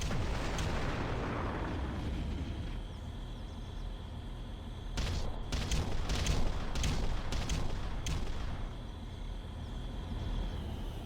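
An artillery barrage in the real-time strategy game Ground Control, a continuous roar of distant shelling with a cluster of sharper, closer blasts rattling in quick succession partway through, no voices over it.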